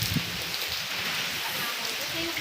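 Heavy rain pours during Typhoon Ulysses, a dense steady hiss drumming on a roof, loud and continuous throughout with a faint voice briefly underneath.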